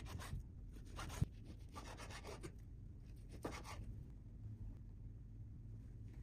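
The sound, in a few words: knife cutting sirloin steak into strips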